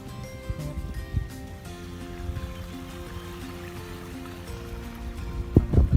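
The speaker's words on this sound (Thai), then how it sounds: "น้ำเชี่ยวครับน้ำเชี่ยว" Fast-flowing water of the Mae Klong River rushes and gurgles around a paddled kayak, a steady broad wash with a few close splashes and knocks building louder near the end.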